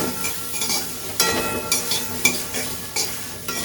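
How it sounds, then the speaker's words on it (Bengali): A paste of tomato, ginger, garlic and onion being stirred in a hot pan, with a soft continuous sizzle and regular scraping strokes of a spatula, close and clear. "তো এই যে পেস্ট যেটা বানিয়েছিলাম সেটা এর সঙ্গে মিশিয়ে দিয়েছি দিয়ে একটু নাড়াচাড়া করে"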